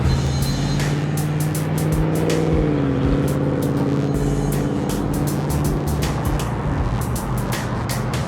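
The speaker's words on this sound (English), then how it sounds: "That's very light traffic for this time of day here." Light road traffic at an intersection rolls past, a steady loud wash of car engines and tire noise with one vehicle's engine note rising and falling, continuous throughout.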